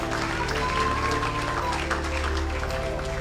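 A church congregation applauds and acclaims the Spirit of God during a prophetic service, with steady, dense clapping and crowd noise over sustained keyboard chords and a faint voice.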